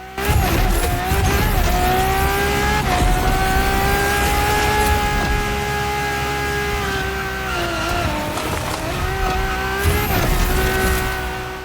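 A race car in The Crew Motorfest skids through a hard flicked turn, tires squealing in long sustained wavering tones over a loud steady engine roar, close and continuous.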